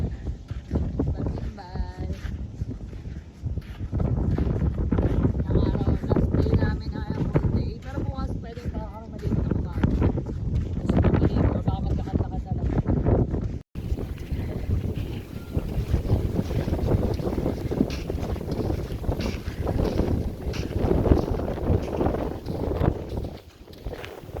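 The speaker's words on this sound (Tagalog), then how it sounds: "Sarap na hangin" Steady sea wind buffets the microphone in a continuous roar, with faint water and voices underneath throughout, on the coast in Pangasinan.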